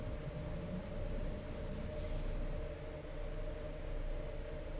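Steady rumble of a 3-car electric train unit hauling extra passenger coaches on the Bernina line between Tirano and Ospizio Bernina in Train Sim World 4, a continuous low drone with a sustained hum, even and unbroken throughout.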